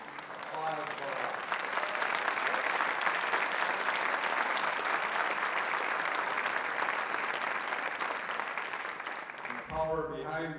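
An audience at a Citizen of the Year ceremony gives a superintendent sustained, dense applause that fills the room for about ten seconds, then cuts off as a voice begins speaking.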